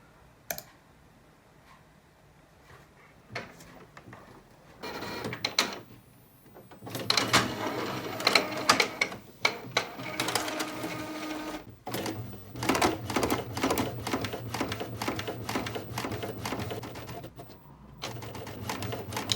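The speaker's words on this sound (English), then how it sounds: "now once the printer is ready, take a picture, press print." A sublimation printer working on a cotton shirt print job, giving a quiet start, then steady mechanical clicking and whirring bursts that run on for over ten seconds.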